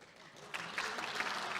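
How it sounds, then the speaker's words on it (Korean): Audience applause at a Korean political speech, a faint, steady wash of clapping that swells partway through. "박수 치지 마세요."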